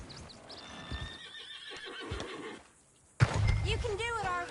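A horse in Red Dead Redemption 2 gives a loud, quavering whinny near the end, after a stretch of hoof clops and thuds under voices and game ambience, with a brief near-silence just before it.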